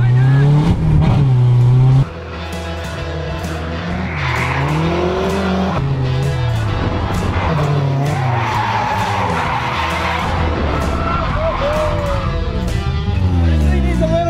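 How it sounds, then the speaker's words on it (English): A drift car burns its tires in a garage setting, with loud continuous tire squeal over a revving engine that rises and falls in pitch, the screech staying close and steady throughout with brief speech faintly beneath. "This thing burned tire real good"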